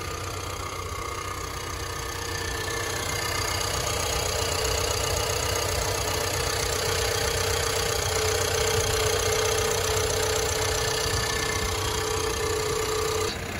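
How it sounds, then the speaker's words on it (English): A steady turbocharged EcoBoost engine idle in a 2020 Ford Ranger, with a continuous whirring hum and high-pitched turbo whine, running evenly and close by without any talking. "What you're hearing is that turbo."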